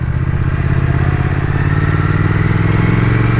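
A 2021 Triumph Thruxton RS motorcycle on the move, its engine giving a loud, steady low drone mixed with rushing wind, unchanging throughout.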